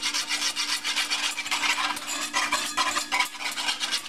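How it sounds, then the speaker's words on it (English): A spoon stirs lemon-flavored milk in a pot until it thickens, for a banana soufflé, making a steady, close, continuous scraping and rubbing with no voices. "And you want to stir this until it's thickened."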